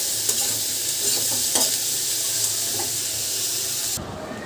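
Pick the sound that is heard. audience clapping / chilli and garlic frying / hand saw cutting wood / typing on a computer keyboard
chilli and garlic frying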